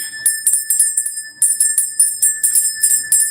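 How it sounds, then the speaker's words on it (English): A small metal bell rung repeatedly to cleanse energy during an astrology reading, clear sustained ringing tones with bright rhythmic strikes about every quarter second, close and alone. "I'm gonna ring the bell again."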